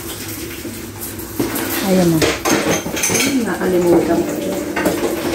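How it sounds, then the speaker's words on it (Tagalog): Dishes being washed by hand, with plates and cutlery clattering and clinking in loud, irregular bursts close by. A voice talks over the washing. "Today's video, maghuhugas siya ng pinggan."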